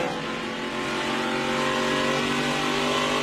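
ARCA Menards Series stock cars race in tight traffic at Lucas Oil Indianapolis Raceway Park in 2022, their engines making a continuous, loud, layered roar with no break.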